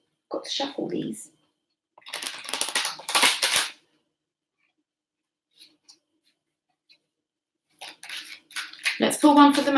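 Brisk papery riffling and snapping of cards being shuffled in quick bursts, separated by a quiet gap, with a voice speaking at the start and end.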